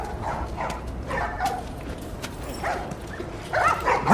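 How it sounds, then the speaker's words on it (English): Dogs bark in a video game, The Last of Us Part 1, with scattered yips and barks from a few animals over a busy ambient background, rising louder near the end. "What exactly are they going to do with these dogs?"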